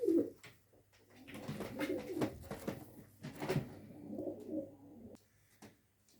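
Breeding pigeons coo in soft, rolling bursts at close range, several throaty calls overlapping against a quiet background.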